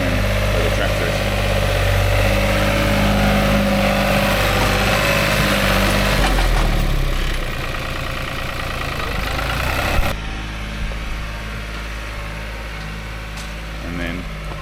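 A tractor engine idles with a low, steady rumble that drops in level partway through, then continues more quietly to the end, in an olive grove.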